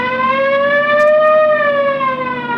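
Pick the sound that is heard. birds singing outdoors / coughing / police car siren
police car siren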